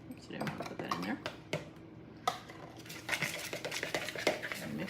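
A utensil stirs guacamole and sour cream in a bowl, giving soft scraping and clinking against the bowl that runs on and off, close, under and between bits of talking.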